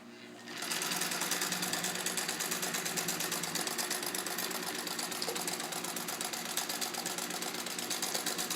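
A restored Singer 66 Centennial Edition sewing machine starts up and stitches a row, its fast, even mechanical whir and needle clatter running steadily and close after a brief quiet start.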